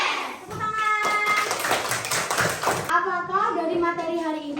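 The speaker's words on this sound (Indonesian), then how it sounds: "Tepuk tangan." Children clapping together in a classroom lesson, a burst of close clapping mixed with excited kids' voices, then the clapping fades as a voice continues.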